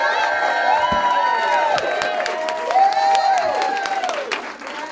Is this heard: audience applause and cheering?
yes